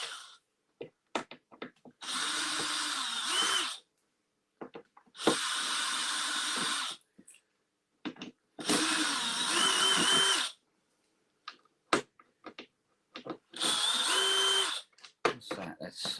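A power drill driving screws into the bottom of a workshop piece, in four loud whirring bursts of about two seconds each, separated by short pauses with small knocks and handling noises.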